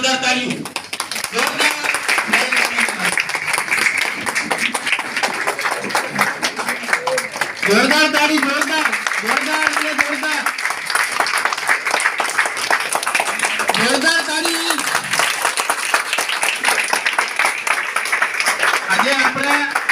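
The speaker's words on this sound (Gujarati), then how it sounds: "સ્વાગત આટલી તાળીથી નહીં ચાલે એટલી તાળીથી નહીં ચાલે" A crowd at an event in Jamnagar claps steadily to welcome a Swaminarayan swami, the applause filling the whole stretch under a loud amplified voice speaking throughout.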